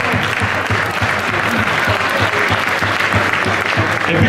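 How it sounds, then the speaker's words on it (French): Loud, sustained applause from a large crowd at an evening gathering of the French professional cycling league, a dense continuous roar of clapping honoring French riders. "Donc on va applaudir nos coureurs français."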